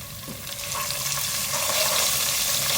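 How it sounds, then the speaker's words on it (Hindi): Garlic-ginger paste sizzling with lightly browned onions and cumin in a pan for a dhaba-style dal tadka, a steady, close frying hiss that grows slightly louder and continues without pause. "1 टेबलस्पून लहसुन अदरक का पेस्ट,"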